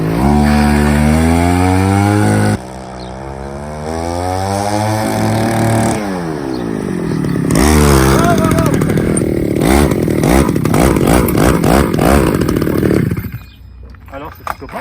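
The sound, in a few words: petrol scooter engine started and running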